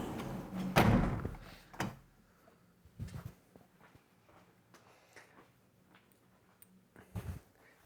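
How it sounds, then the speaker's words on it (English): A door closed in a room at home: one heavy thud early on, followed by scattered softer knocks and bumps and a final thump, near and with no talking. "I'm going to close the door"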